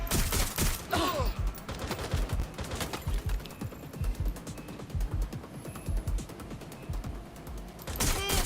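Rapid gunfire in the video game Watch Dogs: Legion, a dense, loud fusillade of overlapping automatic bursts with mechanical clicks, sustained from start to finish with brief sharp peaks.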